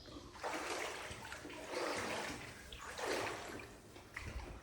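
Boots wade through water and sink into the wet sandy bottom on a trail, with repeated sloshing and splashing surges close by, rising and falling in a slow rhythm.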